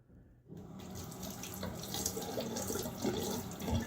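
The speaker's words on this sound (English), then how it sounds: "The cold water here after my rinse and stuff" Cold tap water runs steadily into a sink, a continuous splashing hiss that starts abruptly after a brief quiet moment and stays loud throughout.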